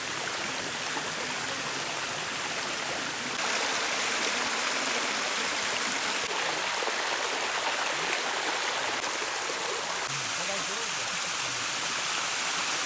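A mountain stream rushes over rocks in a constant, full-bodied wash of flowing water, close and loud, steady from start to finish with no pauses.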